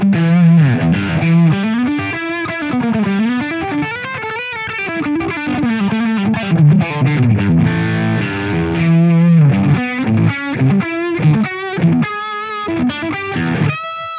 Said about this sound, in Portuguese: eu vou diminuir o tone da guitarra no captador de ponte e eu vou ter um som mais ou menos assim